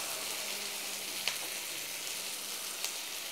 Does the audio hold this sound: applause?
no